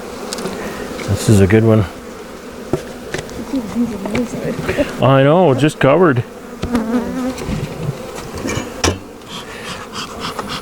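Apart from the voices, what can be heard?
box of buzzing bees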